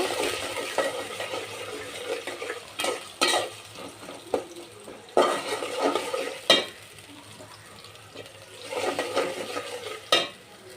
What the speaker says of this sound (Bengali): পেঁয়াজ কাঁচামরিচটা দিয়ে হালকা একটু নেড়ে চেড়ে ভেজে নিব।